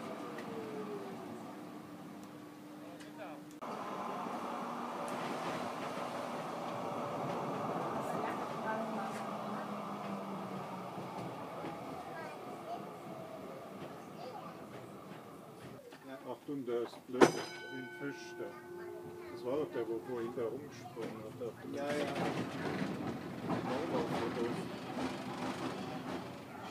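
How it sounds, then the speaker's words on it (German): A historic N-type tram rolls into a stop on a transport heritage day in Frankfurt, its low rumble building, then metallic clanks, a bright bell-like ding and squealing wheels as it halts, with people talking around it. "Und nun fährt einer der historischen N-Wagen ein."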